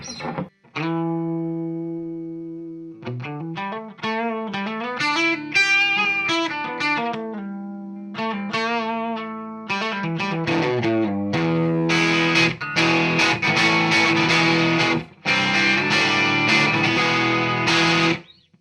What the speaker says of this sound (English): let's just hear a little bit of clean